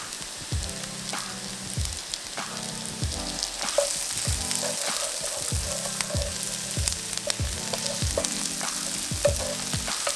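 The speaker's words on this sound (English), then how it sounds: "let's go ahead and add in the sun-dried tomatoes" Sun-dried tomatoes sizzle and crackle in a hot pan with garlic and onions, a dense steady frying hiss with rhythmic scraping and stirring strokes throughout, close and without talk.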